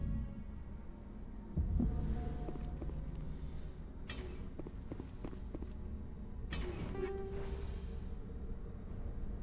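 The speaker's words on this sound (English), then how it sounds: "We can hear our own heartbeat." A low, throbbing heartbeat effect from the Mass Effect video game pulses steadily under a droning hum, with faint game noises and soft clanks scattered over it.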